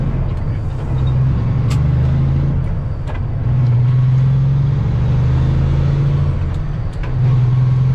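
A truck engine idles and rumbles through its exhaust pipes, a deep steady drone close to the microphone that swells slightly a few times, with a brief soft hiss.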